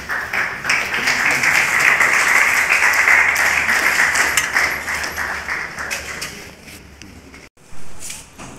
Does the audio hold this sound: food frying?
no